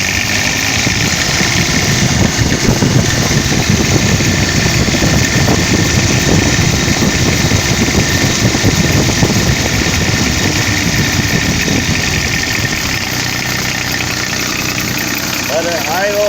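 Diesel engine of a 2007 Toro 3500D Sidewinder mower idling steadily and loudly close by, a constant rumbling drone throughout, with someone speaking over it.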